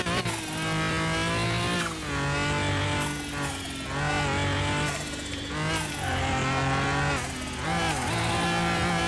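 Loud, sustained roar of a tuned 1300 HP Pagani Huayra engine in Car Mechanic Simulator 2021, revving and surging in waves as the tyres spin under throttle, continuous and close throughout.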